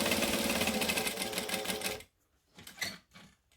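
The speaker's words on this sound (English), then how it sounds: "I'm going to start at the bottom and back stitch, of course. And then go up." A sewing machine backstitching fabric runs in a loud, rapid, close stitching rattle for two seconds, then stops, followed by a few short, softer bursts of stitching.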